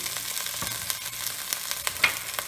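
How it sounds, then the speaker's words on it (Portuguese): Food frying in dendê palm oil in a pan sizzles and crackles quietly and close, with scattered small pops over a steady hiss. "Deixo ele ele fritar um pouquinho aqui, com ele aqui embaixo, já banhado no azeite de dendê."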